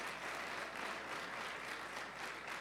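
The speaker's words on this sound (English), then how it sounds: "please stand so that we can give you a round of applause" Conference audience clapping steadily throughout, a dense, even wash of applause filling the room at moderate level with no voices over it.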